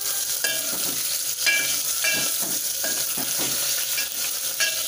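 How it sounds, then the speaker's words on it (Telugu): Green chillies fry in a pan until golden, giving a steady, close broadband sizzle with occasional stirring scrapes throughout, no voices. "ఈ విధంగా కలర్ వచ్చేదాకా వేగనివ్వాలి."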